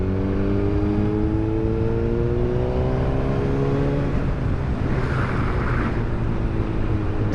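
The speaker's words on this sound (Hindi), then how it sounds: "एग्जॉस्ट नोट भी काफ़ी स्मूथ है, ये कह सकते हैं कि लाउड भी है" Suzuki GSX-R1000R sport motorcycle exhaust note, a loud steady engine drone with rising harmonics that climb and then settle into a rougher roar, continuous throughout with no talking.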